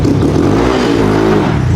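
A three-wheeler engine with a cheap Temu aftermarket exhaust revs loud and close, a rough raspy drone swelling and settling in a short burst.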